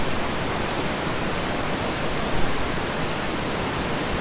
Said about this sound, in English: This is some fast moving water.